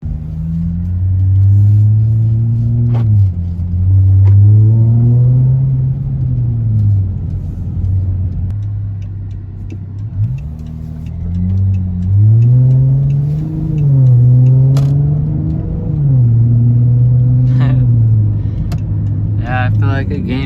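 Chrysler 300 with a MagnaFlow muffler and resonator delete revs repeatedly, a deep rumbling exhaust rising and falling in several throttle blips over a steady idle, loud and close, with a voice talking briefly at times.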